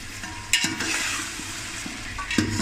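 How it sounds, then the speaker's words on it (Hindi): Beef fries in a pan with spices while being stirred, a steady close sizzle punctuated by regular scraping stirs and light utensil knocks. "अब मसाले मिक्स करके मज़ीद 1 मिनट तक और बनाई करेंगे"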